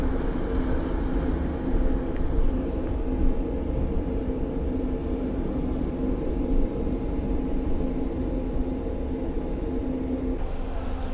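Train pulling into Llandrindod station in rural Wales, heard as a steady low rumble of wheels and engine with faint tonal hums, continuous and fairly close throughout, with no talk.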